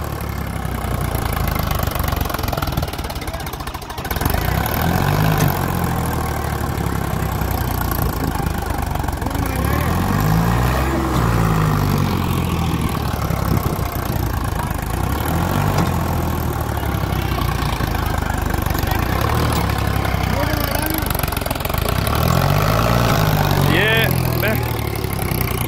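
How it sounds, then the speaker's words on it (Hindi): A Sonalika 35 Sikander tractor's engine labours steadily while pulling a harrow through a field, a continuous loud, rough drone that swells at times under strain, with faint voices mixed into the noise. "दम पूरा लगा रहा है ट्रैक्टर।"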